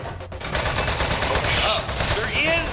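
Gunfire aimed at the player in the video game Desk Job, a dense, loud stream of overlapping shots with whistling, pitch-bending effects layered over it, continuous and close.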